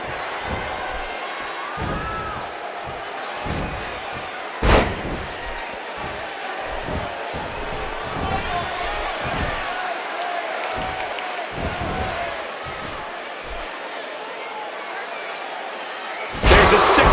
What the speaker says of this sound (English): There's a sick power bomb.